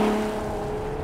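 Ferrari Purosangue V12 engine running steadily while driving, a continuous low, even drone with a tonal hum, close and moderately loud, no voices.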